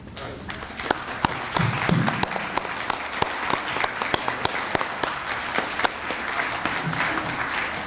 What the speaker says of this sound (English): would you please stand and let us give you our applause?